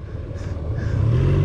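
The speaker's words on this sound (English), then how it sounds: "Now, turn the bike back on. Start her up." A 2018-or-later Honda Goldwing motorcycle engine starts up and runs close by, a steady low rumble that swells slightly and grows louder toward the end.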